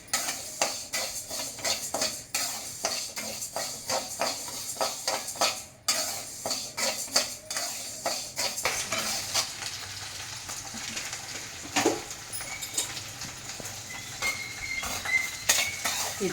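Moong dal being stirred and roasted in a pan over a very low flame, a steady run of close scraping and clinking strokes from a spatula against the metal pan, repeated rhythmically with a faint sizzle underneath.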